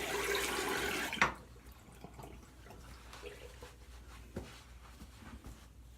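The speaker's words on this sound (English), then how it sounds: "rinse off my fingertips here real quick" Tap water running over fingertips at a bathroom sink during a wet shave, a steady rushing flow for about a second that cuts off, followed by faint drips and small handling sounds.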